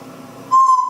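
A bird calls in a comedic animal clip, a loud steady whistled hoot that rises sharply after a lower murmur and holds for about half a second, up close.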